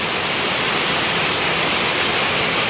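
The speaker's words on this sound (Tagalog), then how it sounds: "Pumasok na ang tubig." Floodwater from heavy rain rushing into a house, a loud, continuous broadband roar of flowing water with no pauses, no voices and no other distinct sounds.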